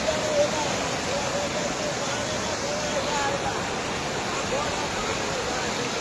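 Water overflowing from Ramdhari lake rushes in a continuous broad roar, while someone talks over it throughout.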